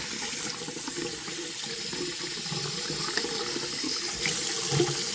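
A steady stream of water pours from a tap while washing a vintage doll's hair, a constant close hiss and splash with slight shifts in flow, no voices.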